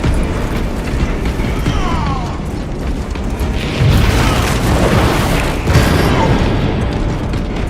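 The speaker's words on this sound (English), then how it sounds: "Reloading ammunition" Weapon reloading in Space Marine 2, a run of mechanical clicks and metallic clacks set against a dense, loud backdrop of game combat noise with muffled booms.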